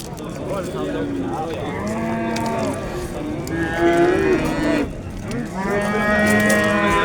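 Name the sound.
cow mooing at a cattle market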